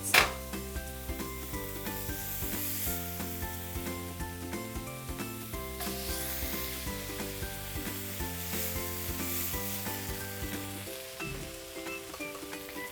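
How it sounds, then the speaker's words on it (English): Burger buns toasting on a hot pan for grilled veg burgers give a steady, soft sizzling hiss throughout, largely covered by continuous background music. "Let's toast these on each side."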